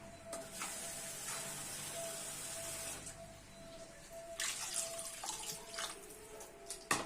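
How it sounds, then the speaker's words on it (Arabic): Broth pours into a couscous pot in a steady liquid stream, a soft, continuous splashing that pauses and resumes with a few light knocks, quiet overall. "غنزيد شويه د المرقه"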